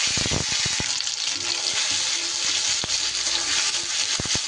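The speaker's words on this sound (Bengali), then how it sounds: "এবার আমি এর মধ্যে দিয়ে দেব এক চামচ আদা আর কাঁচা লঙ্কার পেস্ট" Ginger and green chili paste go into hot oil with mustard seeds for a radish dish, producing a dense, steady sizzle punctuated by a few sharp pops and crackles, close and without talking.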